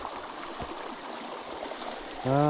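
A small waterfall beside a rock wall gives a steady, moderate rush of falling water with a faint gurgle. A voice breaks in briefly at the very end.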